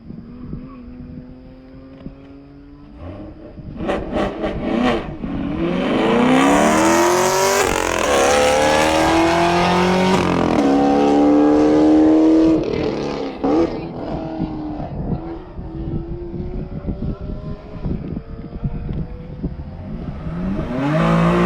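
A Toyota Supra on a race track roars close by, its engine climbing through the gears and sweeping past loudly before fading into a steady drone.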